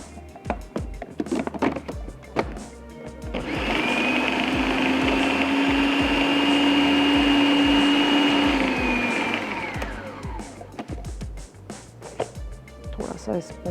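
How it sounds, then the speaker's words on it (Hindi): A blender runs loud and steady for about six seconds, grinding cooked lentils with onion and whole garam masala, then winds down. Kitchen clatter and movement come before and after it. "और अब मैं इसको पीस लेती हूँ।"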